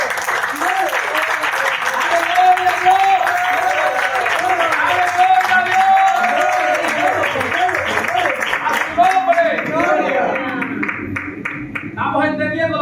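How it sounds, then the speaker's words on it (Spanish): A church congregation applauding, a loud, dense and sustained wash of clapping from many hands, with a voice speaking over it and music sounding beneath. "Dale un aplauso al Señor."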